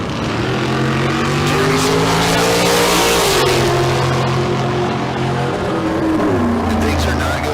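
A dragster powered by a 383 small-block Chevrolet engine races down the strip, its engine note rising and falling loudly in sustained revving passes, with announcer-style speech over it.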